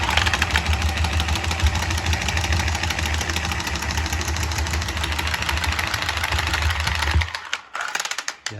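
A cutting machine fitted with a new stainless steel cutting wheel grinds steadily through material for about seven seconds, a loud continuous whine and rumble that then cuts off abruptly.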